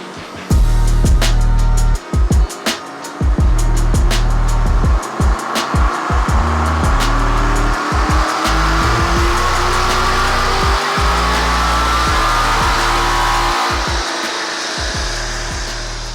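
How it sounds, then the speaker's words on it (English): An Aston Martin V8 Vantage on a dyno revs hard through a full pull, engine rising loudly with a crackling, popping exhaust, then easing off as the revs settle. "get it rolling on the dyno. We'll do 3-4 pulls and make sure they all look good"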